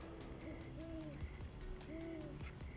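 An owl hoots at night in a forest, giving two clear, moderately faint calls over a steady, quiet background.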